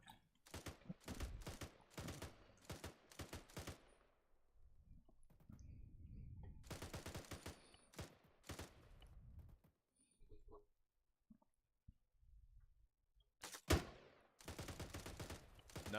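Gunfire in the Arma 3 video game comes as rapid bursts of shots, with a sharp loud crack near the end, and people talk over and between the volleys.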